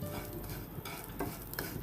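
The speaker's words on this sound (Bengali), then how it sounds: "একদম লো হিটে সেমাইগুলাকে আমি ভেজে নিচ্ছি" Vermicelli dry-frying on low heat in a pan gives a soft, low sizzle, broken by a few light scrapes and taps as it is stirred. The sound is quiet and close, with no speech.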